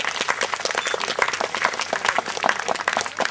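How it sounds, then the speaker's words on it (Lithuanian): Audience applause for a community brass orchestra at a summer town festival in Krinčinas, Lithuania: steady, dense clapping from a crowd, close and lively throughout. "Aplodismentai jiems."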